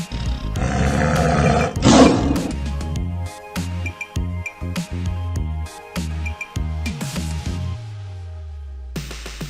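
A tiger roars repeatedly, loud and close, in a sequence of deep throaty bursts and grunts with short gaps between them, ending in a fading growl.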